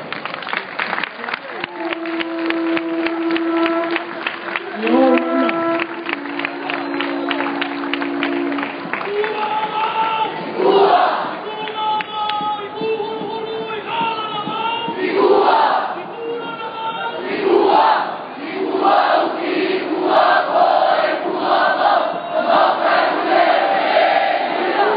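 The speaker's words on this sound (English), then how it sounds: "A round of applause please for Andre." A crowd at a No GMO march in Hawaii claps and cheers steadily throughout, with dense sustained applause and shouting voices rising and falling, and a voice briefly carrying over the noise near the start.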